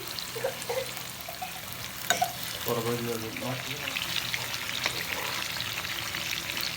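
Hilsa fish pieces and roe simmering in a curry while being gently turned over, a soft, steady bubbling sizzle close by, with a few clinks and scrapes of the utensil as the fish is flipped.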